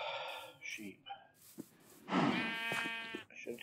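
Sheep in the video game Minecraft give a short bleat midway through, mixed with game sounds and clicks while a person talks nearby.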